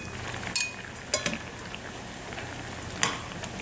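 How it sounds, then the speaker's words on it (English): Food lifted from a sizzling pan with tongs, a few sharp metallic clicks and scrapes over a steady frying hiss, close and moderately quiet. "Just gonna get them out with tongs"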